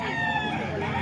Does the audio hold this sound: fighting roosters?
yes